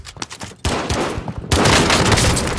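Bursts of gunfire in a multiplayer video game shooter, rapid overlapping shots that start sparse, then build into a dense, loud, continuous barrage.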